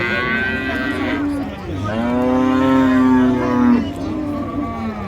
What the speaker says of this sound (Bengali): আর এই গরুগুলো একটু বাজেট বেশি হবে দাস, 280 টাকা।